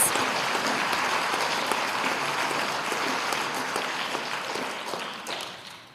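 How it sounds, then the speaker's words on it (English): Sustained applause from a school audience at a junior high awards night honoring students, steady and full for several seconds before tapering off at the end. "let's have a round of applause for our students who have achieved honors in 3 classes"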